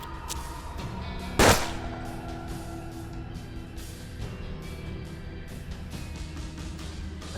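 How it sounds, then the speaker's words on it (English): A single loud gunshot from a Canon Calavera revolver in the turn-based western game Hard West, sharp and close, followed by a short decay over a low ambient music bed. "try and take this guy out with your Canon Calavera"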